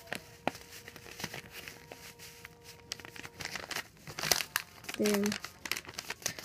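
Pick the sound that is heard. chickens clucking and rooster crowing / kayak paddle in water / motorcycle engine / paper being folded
paper being folded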